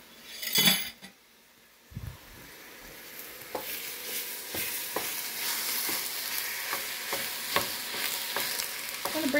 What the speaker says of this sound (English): I'm going to stir it around